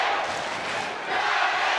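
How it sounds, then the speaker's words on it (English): A fight crowd at a title bout roars and cheers in support of Danny Ball, a steady, loud wash of many voices filling the hall without a break. "And the crowd getting behind Danny Ball now."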